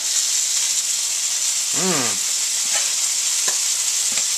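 Venison steaks fry in a pan with a steady, loud sizzle that runs the whole time. A brief voice-like warble and a few small clinks come through partway, and no one speaks.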